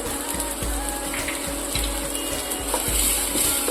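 Onion, bay leaf, dried chili and green chili frying in oil in a pan, a steady close sizzle with soft regular low thumps from stirring, no voices.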